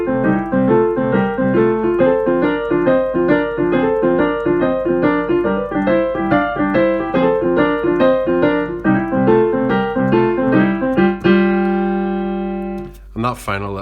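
Blues boogie-woogie piano piece played steadily in a rolling rhythm of repeated chords and riffs, loud and close, ending with a short turnaround and a final held chord.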